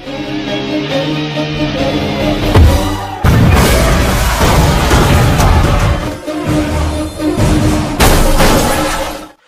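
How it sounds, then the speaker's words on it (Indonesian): A loud explosion with shattering and crashing debris, followed by more heavy bangs and rumbling bursts over several seconds. "mobil Diwakar meledak."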